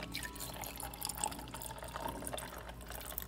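An espresso shot of coffee is poured into a cup at home, a soft, steady trickle of liquid with faint drips, heard close up and alone.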